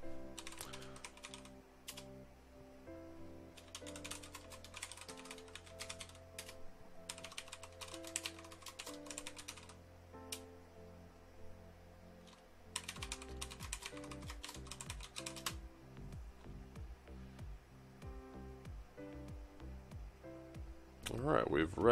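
Someone types on a computer keyboard while logging in as root on a Red Hat Enterprise Linux 7.5 system, with quick bursts of clicking keys separated by pauses, and a faint hum underneath.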